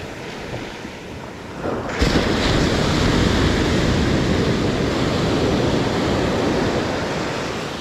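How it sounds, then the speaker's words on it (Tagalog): Sea waves wash onto the shore, a continuous roaring surf that swells suddenly about two seconds in and stays loud, with wind buffeting the microphone and no voices. "Sarap din panoorin ng mga alon"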